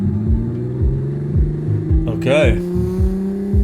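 A 2012 Porsche Cayman engine rumbles with a low, pulsing idle and rises in a short rev, loud and close, with a brief spoken word over it.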